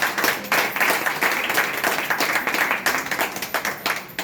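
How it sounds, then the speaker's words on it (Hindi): An audience claps enthusiastically during a testimonial gathering, a dense, fairly loud burst of applause with individual hand claps standing out, continuing for about four seconds. "प्लेटफॉर्म के लिए जबरदस्त ताली"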